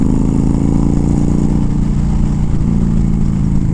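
Honda Fury motorcycle with a Moore Mafia ECU flash rolls on throttle in cold weather, its engine a steady, loud, close drone running smooth and continuous throughout.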